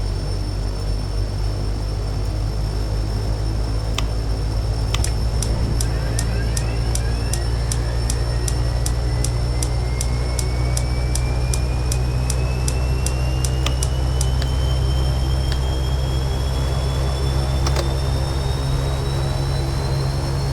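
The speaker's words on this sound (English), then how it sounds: "let's start the right engine" Right engine of a King Air C90B starting in the X-Plane simulator: a steady, loud turbine whine rises gradually in pitch over a constant low engine drone, with repeated faint clicks throughout and no talking.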